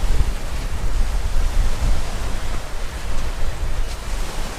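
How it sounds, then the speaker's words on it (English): Wind blows in off Lake Superior across a cobble beach, a loud, steady roaring rush with a low rumble, close to the microphone and without speech. "The wind's blowing in right off the lake"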